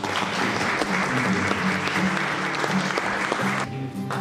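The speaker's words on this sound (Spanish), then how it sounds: "Te mereces un aplauso" Wedding guests applaud at a civil marriage ceremony, a steady wash of clapping from a crowd that runs for about three and a half seconds before cutting off abruptly.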